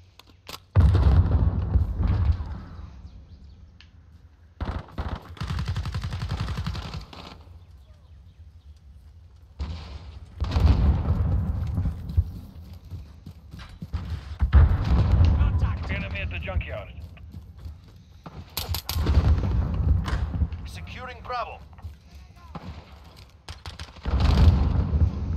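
Gunfire bursts and a grenade blast in Call of Duty Modern Warfare hardcore domination on the Shoot House map, sharp loud reports and thumps recurring amid frequent player chatter.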